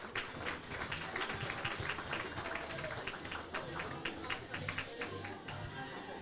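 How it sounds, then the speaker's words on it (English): Sustained audience applause at a legal conference summit session, a dense, even patter of many hands clapping that carries on steadily from start to finish. "Keep that applause going."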